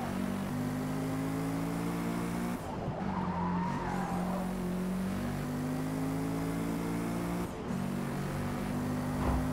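Race car engine in the Forza Motorsport 2023 video game, a loud sustained drone that shifts pitch with gear changes, with brief tire-skid squeals and dips as it brakes and accelerates again, no talk.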